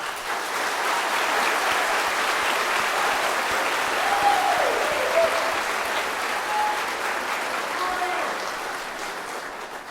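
Graduation audience giving a sustained round of applause, a dense, even wash of many hands clapping for about ten seconds at steady loudness, with faint voices mixed in.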